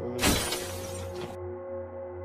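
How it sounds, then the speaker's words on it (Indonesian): Glass shatters once with a loud, bright crash in a film scene, the debris settling over a steady low hum, with no talk. "Lalu terdengar suara pecahan kaca dari arah belakang rumahnya."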